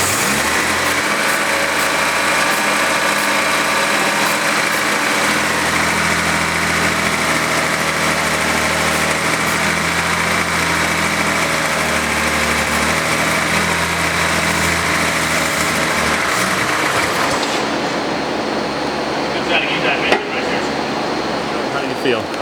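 A Jaguar E-type engine idles just after starting, a steady close mechanical hum that holds evenly before shifting near the end, with people talking faintly over it.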